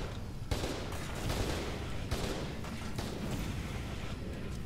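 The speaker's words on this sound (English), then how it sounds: "Let's take the flamethrower. Napalm cannon!" A napalm cannon flamethrower in F.E.A.R. 2 fires in a sustained roaring whoosh of flame, with dense, loud continuous bursts surging several times over a few seconds, no voices.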